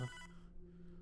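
A telephone rings inside the video game Hotline Miami 2: Wrong Number, giving a single short bright electronic ring that fades into a steady low hum. No one speaks.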